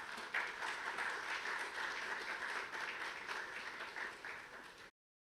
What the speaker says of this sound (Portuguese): Vamos receber com uma salva de palmas reverendo Robinson Grangeiro Monteiro.